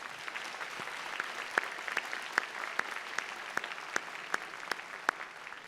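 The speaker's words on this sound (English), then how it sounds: "And I think that deserves a big round of applause." A graduation convocation audience applauds steadily, a soft, distant wash of clapping with a few crisp, sharper claps popping out at regular intervals nearby.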